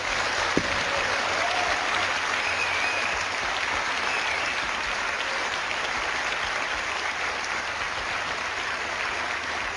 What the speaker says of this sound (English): please give Helen a big round of applause